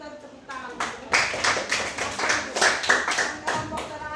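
A classroom group claps after a student presentation, steady overlapping hand claps at moderate volume lasting several seconds, with some voices murmuring underneath.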